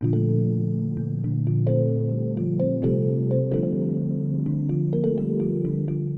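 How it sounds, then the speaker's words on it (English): A lush, sustained synth pad with soft keyboard notes struck over it, from a Pigments preset, steady and full, with no voices. "So this is a very nice, luscious kind of like pad sound, but with keys at the same time."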